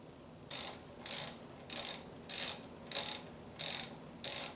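A 5/8 inch socket on a ratchet tightens a spark plug during a Pontiac Aztek engine rebuild, giving seven evenly spaced bursts of close, crisp ratchet clicking separated by short pauses.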